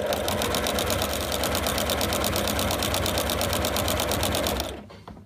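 A sewing machine runs steadily, stitching fabric with two threads of different colours in a rapid, even mechanical rattle, loud and close, then stops abruptly near the end.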